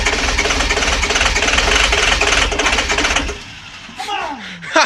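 An International diesel engine cranks hard on a cold winter start, a loud rough mechanical churn for about three seconds that cuts off abruptly, followed by brief chatter nearby.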